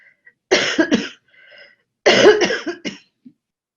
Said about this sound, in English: this one needs to cough